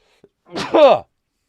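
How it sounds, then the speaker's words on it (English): A single sneeze from a man, a short catch of breath followed by a loud voiced burst lasting about half a second, near and alone in an otherwise quiet room. "gonna sneeze again."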